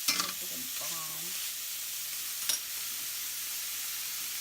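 Chorizo sizzles in a hot pan, a steady broadband crackle throughout, with a few scraping stirs and a brief voice murmur near the start and a clink midway.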